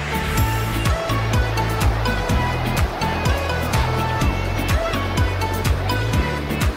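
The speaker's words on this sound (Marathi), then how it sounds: "आणि हे बघा लाटा किती उसळत आहेत" Sea waves surging onto Tarkarli Beach, a loud constant roar of surf with low rhythmic pulsing underneath, continuous and close, no speech.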